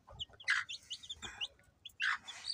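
Labuyo jungle fowl chicks give quick, high chirps and peeps in short clustered bursts, close by and fairly faint against a calm background.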